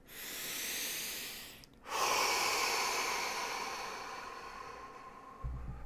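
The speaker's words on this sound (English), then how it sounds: "we'll take a deep breath in, deep breath out after that" Two slow, deep breaths during a guided meditation, one long inhale followed by a longer exhale with a brief pause between, close and soft with no talking.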